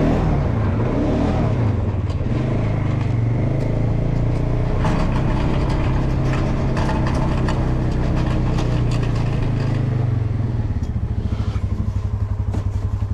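A four-wheeler ATV with a front blade plows snow, its engine droning loud and close with steady, rough low harmonics that shift in pitch as it turns, then settle into a lower, even idle near the end.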